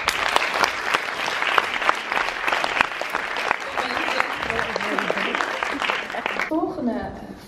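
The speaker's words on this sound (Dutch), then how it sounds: "Dus geef een groot applaus voor Yves Tomaszewski." An audience claps enthusiastically, a dense, lively burst of applause with sharp individual claps that holds strongly before fading out, with a voice speaking briefly at the end.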